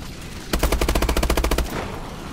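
An automated turret in Advanced Warfare Exo Zombies fires a rapid burst of around fifteen evenly spaced shots, loud and close, lasting about a second before cutting off, with a faint game ambience around it.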